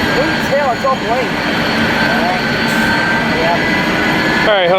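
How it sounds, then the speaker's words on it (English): An Azul Airbus A330 jet roars through its takeoff at Fort Lauderdale airport, a loud, steady engine rumble and whine filling the scene while people talk and call out nearby. "we got the Azul A330 taking off"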